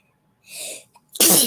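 A single close sneeze comes after a short breathy intake, ending in a loud burst of air. No one speaks.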